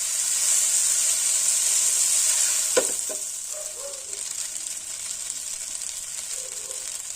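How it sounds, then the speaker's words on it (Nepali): Boiled noodles fry in a hot pan with fenugreek seeds for Nepali sadeko chowmein, a loud steady sizzle that briefly breaks with a couple of sharp scraping clinks, then settles into a softer hiss with light stirring. "अब मजाले फ्राई गर्नुपर्छ।"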